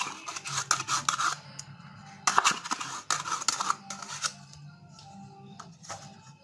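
Oil, yeast and two tubs of yogurt being stirred together in a bowl for pizza dough, a close run of scraping, clinking strokes that come in uneven bursts with short pauses between, nothing else heard.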